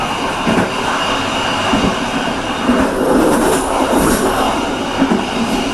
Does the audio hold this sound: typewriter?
no